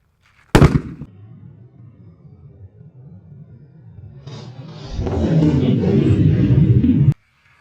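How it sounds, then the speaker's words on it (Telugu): A big homemade sutli bomb firecracker goes off with one sharp, loud bang, followed by a low rumble and then several seconds of louder broadband crackling and rushing noise that cuts off abruptly. "ఓకే మొత్తానికి అయితే బాంబు వెళ్ళిపోయింది"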